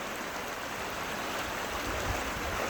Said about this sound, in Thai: ฟังเสียงน้ำไหลนะคะ